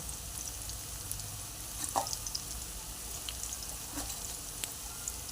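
Onion with ginger paste and garlic paste frying in a pan for Kolkata-style chicken kosha gives a steady, fairly quiet sizzle, broken by a few light scrapes of stirring.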